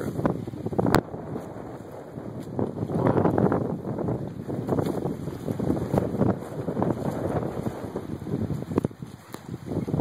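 A motorboat motors away along the intracoastal waterway near Fort Myers, passing under a bridge. Its steady, rumbling engine wash carries on for the whole stretch, with gusty wind buffeting the microphone on top.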